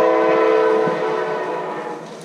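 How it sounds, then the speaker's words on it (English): A passing train sounds its horn in a loud, sustained, harmonic blare that fills the whole span, with rumbling underneath and a gradual fade toward the end. "You guys hear this train? It's ridiculous."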